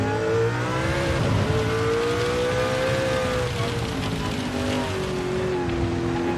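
A Mercedes CLK LM race car engine in Gran Turismo 7 at Fuji Speedway holds a continuous, loud roar whose pitch dips and climbs as it revs through a corner, with no talking.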